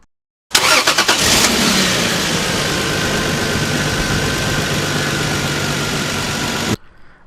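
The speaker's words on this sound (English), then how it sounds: "Start the engine on the good car and run it for 5 minutes to charge the battery on the dead car." A car engine cranks briefly and catches, then settles into a steady, loud idle nearby for several seconds before shutting off, with no talking over it; the running car is charging a dead battery in another car during a jump-start.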